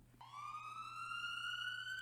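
A siren wails from an arriving ambulance or squad car, one long steady rising tone that starts abruptly and sweeps upward, loud and close, with no other sounds.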